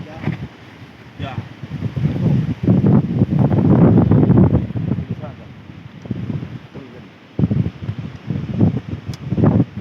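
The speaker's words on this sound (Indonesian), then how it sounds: "Angin badai, anginnya kenceng banget ini" Strong stormy wind gusting through Cibodas National Park, roaring and buffeting the microphone in loud surges with brief lulls, strong enough to topple a tent.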